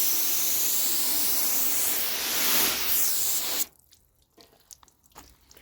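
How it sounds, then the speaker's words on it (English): Hose spraying water onto a car's painted surface with surface rust, a steady close hiss that shifts slightly for several seconds and then cuts off, leaving faint drips and splashes. "So let's hose this off."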